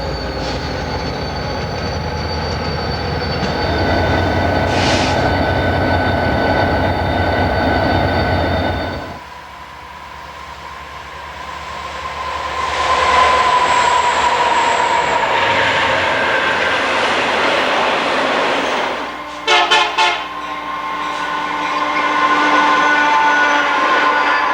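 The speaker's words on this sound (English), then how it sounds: "One of the FP45 diesels that were used to reintroduce the Warbonnet scheme is in the consist of an" An eastbound Santa Fe train hauled by FP45 diesel locomotives stops at Fort Madison: a loud, sustained rumble and grinding of railcars, high wheel squeal, a sudden drop in noise, then clanking and renewed rolling.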